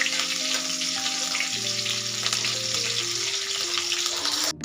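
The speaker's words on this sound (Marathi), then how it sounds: "अशा पद्धतीने मिरची तेलामध्ये तळून घेतली" Green chilies fry in hot oil for kanda poha, a loud continuous close-up sizzle with faint steady tones underneath, ending in a brief clatter.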